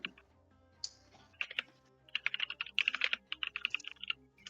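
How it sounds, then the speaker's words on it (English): Computer keyboard typing in bursts of rapid clicks, picked up close and fairly quiet, with a brief pause before a denser stretch of keystrokes. "Stop clicking your fucking keyboard. Sorry. It's just endless typing."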